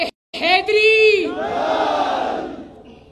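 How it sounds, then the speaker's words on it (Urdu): At a Gilgit-Baltistan election campaign rally for Pakistan Muslim League-N, a speaker's amplified shout is answered by a large crowd roaring a slogan back in unison, a loud, swelling wall of voices that fades out. "آخر میں میرے ساتھ مل کے 3-4 نعرے لگا دو"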